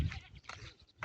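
A short goat bleat sounds close by, brief and wavering, with a bit of handling noise at the start.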